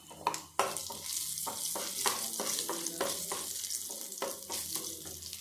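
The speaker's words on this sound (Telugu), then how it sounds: "జీలకర్ర, ఆవాలు, ఇంకా వెల్లుల్లి, కొత్తిమీర, కరివేపాకు వేసి తాలింపు వేసుకుందాం" Cumin, mustard seeds and garlic tempering in hot oil for a lentil rasam, a continuous crackling sizzle with repeated close scrapes of a spoon stirring the pan.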